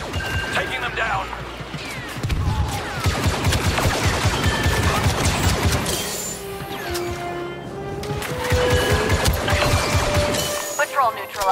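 Rapid blaster and gunfire bursts from the Star Wars Battlefront II story mode crackle in dense volleys, mixed with game music tones and character voices.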